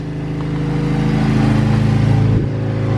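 A Nissan SR20 engine idling after a repair, a steady close mechanical hum with even low harmonics and a slight rise and dip in level near the end.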